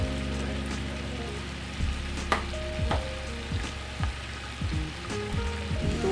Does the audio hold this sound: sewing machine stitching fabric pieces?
no